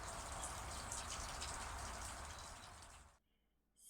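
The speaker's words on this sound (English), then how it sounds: "you might be able to hear the rain in the background" Steady rain falling outside on a grey day, a dense even hiss of drops on surfaces that holds loud for about three seconds, then cuts to near silence before returning briefly.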